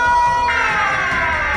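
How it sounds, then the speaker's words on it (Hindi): A cartoon Siren Head monster blares its siren, a loud, sustained wailing tone that shifts pitch partway through and runs steadily without any speech. "और फिर वो अपना सायरन बजाने लगता है"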